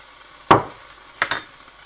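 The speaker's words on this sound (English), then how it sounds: "give it a good stir" Prawn noodle stir fry being stirred in a hot pan with ginger, three short, sharp scraping clatters, one and then a quick pair, over a faint sizzle.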